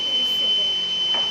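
A small electronic buzzer on a classroom-built night-light circuit emits a steady, thin high tone that holds unchanged for the whole moment while someone talks over it.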